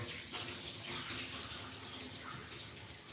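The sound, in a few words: chemical liquid poured down a sink drain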